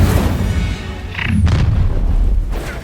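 Incendio spell cast in Hogwarts Legacy, a loud fiery whoosh and burst rising over steady combat rumble, with a short bright flare in the middle.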